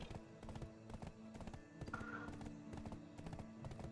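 Horse hooves clip-clopping in the online role-playing game Black Desert Online: a steady, rhythmic run of close hoof beats with a brief tonal game sound partway through and no talk.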